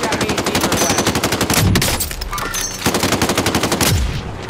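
Rapid automatic gunfire rattles in a video game shootout, loud and close, in long bursts with a brief pause before firing resumes.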